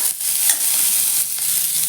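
Hot oil sizzles loudly and steadily, a bright crackling hiss close up with a few brief pops as dried red chillies fry.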